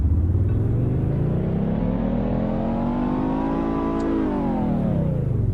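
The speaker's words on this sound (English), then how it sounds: "Alright, so let's just start this up. Pretty generic. Let's rev it up a little bit." A car engine in the Roblox game Greenville runs and revs, a loud steady drone rising smoothly in pitch then falling back, close and alone without talk.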